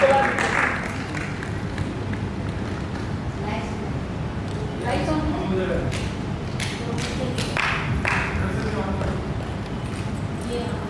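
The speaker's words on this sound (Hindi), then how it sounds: "जोरदार तालियां, सम्मान है कलाकारों का और अच्छी प्रस्तुति का।" Audience applause after a stage performance at an Independence Day (15 August) theatre program, a dense, sustained clapping that carries on throughout with voices audible over it.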